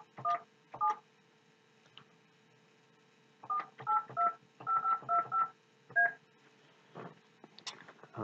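Telephone keypad DTMF tones dialed to place a simulated inbound call for a business phone system demo, two short beeps, then a quick run of about eight tones, a pause and a few more, clear and alone.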